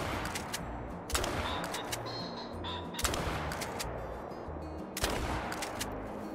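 Couso Model 1897 shotgun firing in theHunter Call of the Wild, three loud, sharp blasts spaced about two seconds apart over a steady outdoor ambience with faint birdsong.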